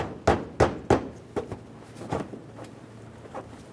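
Plastic front bumper cover of a 2012-2018 Nissan Altima snapped into place along the fender near the headlight: three sharp close knocks, then a few softer clicks and taps.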